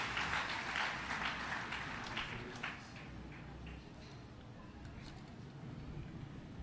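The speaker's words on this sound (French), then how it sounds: "Nous allons encore une fois applaudir le Saint-Esprit de Dieu." A church congregation claps together, with dense, fairly faint applause that is strongest at first and then thins and settles into a steadier patter.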